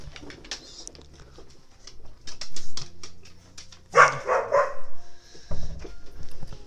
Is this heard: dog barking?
yes